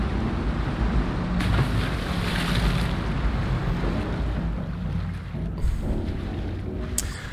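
Water flows and rushes steadily in the video game Little Nightmares, a broad, loud watery wash with low rumble and a wind-like roar. It continues for several seconds, easing slightly near the end with a brief click.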